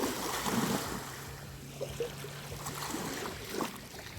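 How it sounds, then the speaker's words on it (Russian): Sea waves wash onto a shore in a steady, blustery roar, mixed with wind noise buffeting the microphone and a few faint scattered sounds, with no voices heard. "Вот такое у нас море, я живу на море"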